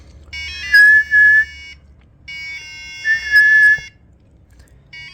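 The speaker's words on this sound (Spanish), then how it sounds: "Y ahí silbando abrimos la puerta y ahí ganamos." A person whistles nearby to trigger a whistle-activated door on an electronics booster-board project. Two clear bursts of steady, pure whistled tones are separated by a short pause, loud and alone against a quiet background.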